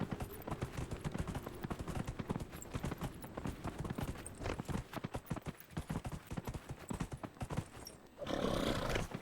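Rapid, steady video-game horse hoofbeats clatter loudly throughout, with a horse whinnying near the end; no one speaks.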